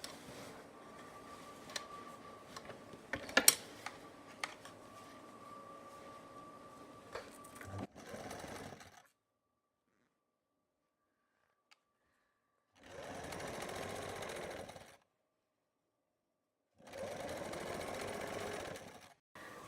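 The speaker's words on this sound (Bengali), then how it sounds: "আমার আমরেলা কট হাতা সেলাই শেষ হয়ে গেছে" A sewing machine stitching umbrella cut sleeves, first a steady clattering run with ticks, then after a pause two separate bursts of rapid, even stitching, each lasting about two seconds.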